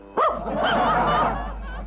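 A pet dog gives one loud, close bark that trails into a whining, yelping tail indoors, standing alone without talk over it.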